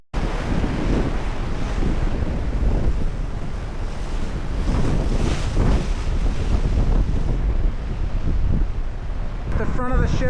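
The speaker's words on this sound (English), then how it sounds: "At the front of the ship now, you can really feel it and you can see the waves." Rough-sea ocean waves and strong wind on the front deck of the cruise ship NCL Jade roar steadily and loudly, with wind buffeting the microphone throughout.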